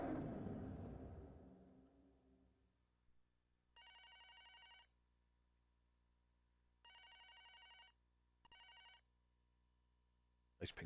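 A pink phone rings in a PC Engine FX video game. Three bursts of electronic bell trills sound clearly over a quiet low hum, after a fading rumble at the start.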